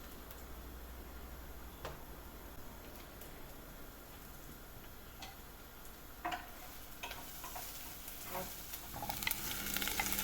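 Meat sautéing in a pan for a Persian plum and spinach stew, a faint steady sizzle with occasional ticks and clinks, growing a little busier toward the end, no talk.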